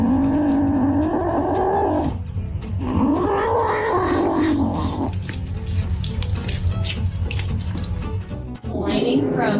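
A cat growls and caterwauls in long, loud, wavering yowls that rise and fall, with a brief pause between cries and a faint running-water sound in the background.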